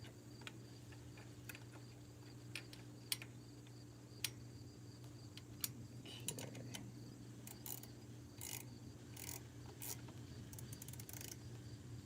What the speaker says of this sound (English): We can put it on the end and just ratchet it down.